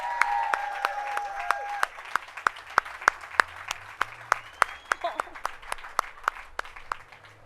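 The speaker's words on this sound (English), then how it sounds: "Let's give her a big round of applause, you guys." Audience at an outdoor Hollywood Walk of Fame ceremony clapping, sharp evenly spaced claps standing out over a thinner spread of applause, with voices talking beneath.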